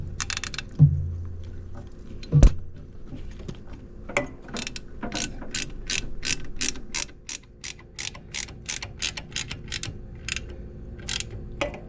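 A ratchet tightens a bolt on a Honda VVT solenoid, giving a long run of close, crisp metallic clicks in a steady rhythm after a couple of isolated clunks.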